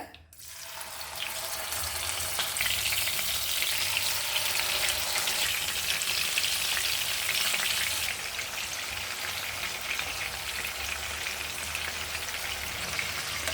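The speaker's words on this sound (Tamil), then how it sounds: "எண்ணெய் நல்லா காஞ்சதுக்கப்புறம் சிக்கன் போடுங்க, அது ரொம்ப முக்கியம். பொரிக்கிறப்போ சிம்மில் வச்சு பொரிச்சிக்கோங்க." Steady, loud crackling sizzle of chicken frying in hot oil, a dense bubbling hiss that continues without pause and with no voices.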